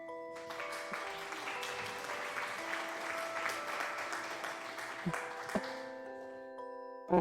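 Hands clapping steadily for about five seconds in a room, a dense close patter under sustained electronic game tones, then stopping as a few sharper knocks follow.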